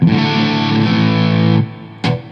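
A sustained electric guitar chord through the clean channel of a PRS Archon amp, with a little added grit, rings out then cuts off, followed by a brief strum near the end.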